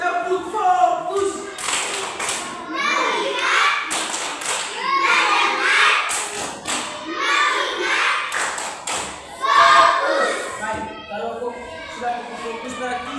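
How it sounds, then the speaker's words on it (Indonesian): A primary-school class does a patterned rhythmic clapping routine led by the teacher. Sharp, loud bursts of claps recur in short groups, and the teacher's voice and children's chanting are mixed in between. "Tepuk fokus."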